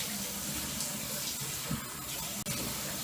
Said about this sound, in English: did a hot rinse and a cold rinse